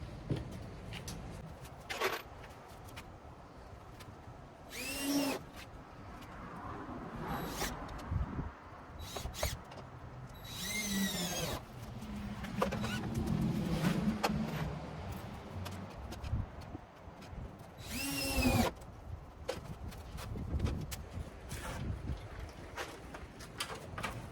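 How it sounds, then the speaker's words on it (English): A power drill drives screws into the wood of a vintage mobile hospitality camper bar, in several short, sharp whirring bursts spaced apart over a low background. "let's throw some screws in it"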